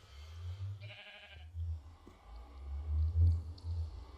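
A few low, drawn-out bleats in a game setting, with a brief brighter tone partway through; no talking.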